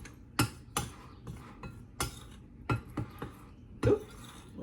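A utensil scrapes and clinks against a bowl while salt and pepper are stirred into onion ring coating, giving a series of sharp, irregular taps and knocks close by.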